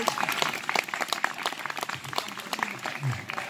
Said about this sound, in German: Meine Damen und Herren, einen herzlichen Applaus für Carsten.